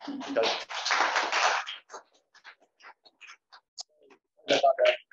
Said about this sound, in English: if you wouldn't mind a round of applause for Natalie.